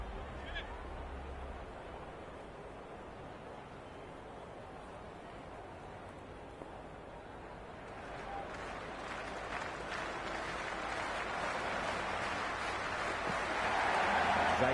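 A stadium crowd in the cricket video game Cricket 26 gives a steady roar of cheering and applause that swells louder toward the end, with no talk over it.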